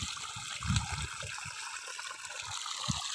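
Borewell water pours onto a field in a steady broad rushing flow, with occasional low gurgling splashes, continuous and fairly close, no voices.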